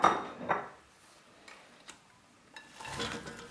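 Cubed potatoes dropped into a pot of Irish-style beef stew with the meat, making a couple of soft thuds up front, then scattered light clinks and a faint rustle.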